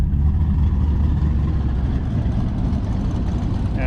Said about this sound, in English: And these cars are all lined up to try to make a pass.